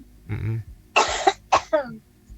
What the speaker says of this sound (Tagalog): Ang cute ng pag-ubo.